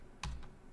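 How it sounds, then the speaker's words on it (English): Two quick keystrokes on a computer keyboard, close and fairly loud against a quiet room, with a short clack followed by a softer second tap. "oops, sorry, I'm typing 132."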